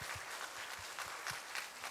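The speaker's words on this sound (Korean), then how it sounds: "뜨겁게 박수 한번 같이 하겠습니다." A church congregation at a Korean Sunday service claps together, a faint, steady patter of many hands with a few sharper beats, with no voices over it.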